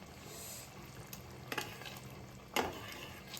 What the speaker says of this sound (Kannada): ಕುದಿ ಬಂದಿದೆ ಖಾರ, ಇವಾಗ ಪನ್ನೀರ್ ಹಾಕೋಣ